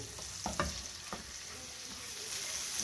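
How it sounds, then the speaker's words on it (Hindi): Garlic fries in a pan over high heat, a quiet, steady sizzle with a few brief stirring knocks near the start, then an even hiss with no speech. "अब लहसुन को पकाऊंगी मैं, थोड़ा सा इसका कच्चापन खत्म हो"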